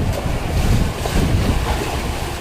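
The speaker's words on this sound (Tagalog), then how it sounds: "Karagatan ay maalon ngayon." Rough sea waves and gusting wind roar continuously around a fishing boat out on the open Pacific, a loud, dense wash with wind buffeting the microphone throughout.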